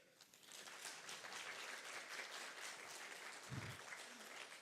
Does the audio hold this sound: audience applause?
yes